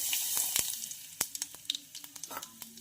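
Mustard seeds and cumin crackle and sizzle in hot oil in a pan, a constant hiss broken by scattered sharp pops close at hand.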